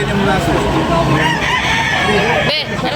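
Roosters crow amid a busy gamecock market in Tabunok, Talisay, Cebu, with several birds calling over a dense, loud background of crowd noise and voices.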